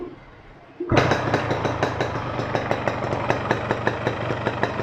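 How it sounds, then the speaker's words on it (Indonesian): A Yamaha RX King two-stroke motorcycle starts and settles into an idle, its engine ticking in a quick, even, close-up rhythm for several seconds after a faint quiet lead-in. "kalian nyalakan motornya, nyalakan lagi"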